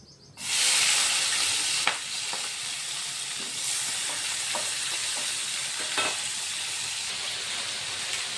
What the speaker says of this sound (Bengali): ওই তেলের মধ্যেই আমি এঁচোড়গুলো ভেজে ফেলবো এখন।